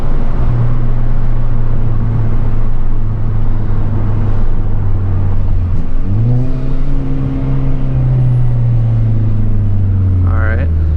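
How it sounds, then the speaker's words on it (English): Hyundai Veloster N, 2020 Performance Pack, engine running loud and steady throughout with a rising blip around the sixth second and another short rev near the end. "It just blips the throttle like perfectly."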